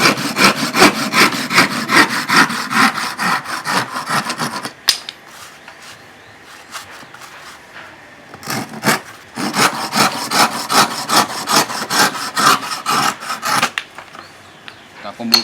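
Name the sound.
hand crosscut saw cutting wood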